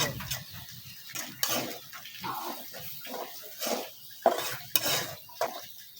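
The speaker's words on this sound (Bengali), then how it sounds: "আর একটু ভাজা ভাজা করে আমি ভর্তাটা নামাই নিই" Fish roe mash with coriander leaves is stirred and fried in a pan, a spoon scraping and knocking against metal in irregular strokes over a faint sizzle, close and with no talking.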